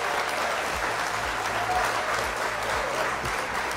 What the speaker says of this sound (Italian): L'applauso, aspetta, dov'è l'applauso?